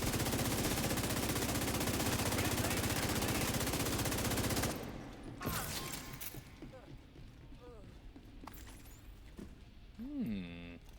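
Automatic gunfire in The Division 2 shooter game fires as a dense, loud rapid burst for several seconds. It stops abruptly, followed by scattered impacts and shell clatter while a player talks.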